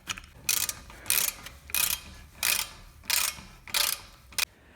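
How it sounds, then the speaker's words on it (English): Ratcheting wrench clicks as the brake caliper bolts are tightened on a 2010 Audi A3 during front pad replacement, coming in about seven short regular bursts, close and fairly quiet. "We can tighten the bolts back."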